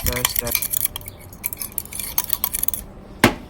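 A utensil stirs mayonnaise sauce in a bowl, giving a run of close, light scraping and clinking taps with a louder knock near the end.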